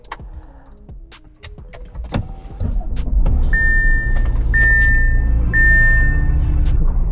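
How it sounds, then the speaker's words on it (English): A 2019 Audi Q8 starts cold: clicks and a brief crank, then the engine catches and settles into a loud, steady idle with chimes sounding over it. "let's do a cold start on this 2019 Audi Q8"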